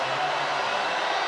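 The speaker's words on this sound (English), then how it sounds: "Crowd don't like the call." A basketball arena crowd at a women's international championship final, China against Japan, lets out a sustained, loud disapproving roar over a referee's call, a dense wash of massed voices that fills the space.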